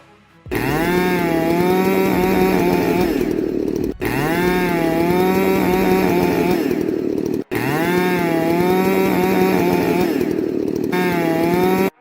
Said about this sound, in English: the chainsaw suddenly went haywire